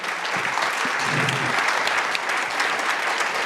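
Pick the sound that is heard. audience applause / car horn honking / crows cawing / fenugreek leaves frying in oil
audience applause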